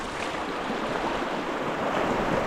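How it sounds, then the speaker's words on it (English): River current swirling around someone wading knee deep on a Moab-style outdoor trip, a steady, close rushing wash of moving water with no talk. "Okay, we're knee deep in the water now. The current isn't too bad though."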